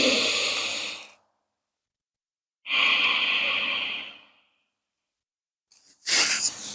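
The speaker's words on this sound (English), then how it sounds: "Two more cycles of breath." Slow, deep breathing during a beginner yoga moon salutation practice, two long audible exhales, each lasting over a second, separated by quiet pauses, then the start of another breath, close and soft.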